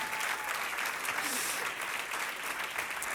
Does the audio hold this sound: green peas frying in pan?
no